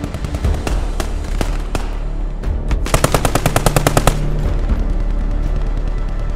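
Heavy machine gun firing in the Post Scriptum World War II shooter, loud scattered single shots at first, then a sustained rapid burst of evenly spaced rounds, with more distant gunfire continuing around it.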